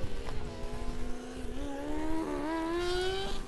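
A Formula Student race car in an endurance event screams through a chicane, its engine note rising steadily as it accelerates past, fairly close and loud with no talk over it.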